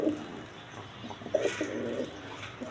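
A breeding pair of pigeons that lay eggs and raise chicks coos close by in a few low, throaty bursts, the calls bunching together in the second half with no voices over them.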